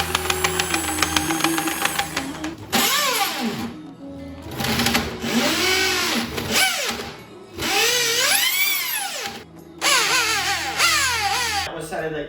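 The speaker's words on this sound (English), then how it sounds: "I also burned out my drill making these 6 holes. So it's a Bosch drill" A Bosch power drill bores holes in a custom DIY intake manifold for a Mercedes-Benz W203 engine swap: loud whining motor bursts that rise and fall in pitch as the bit bites, with short pauses between.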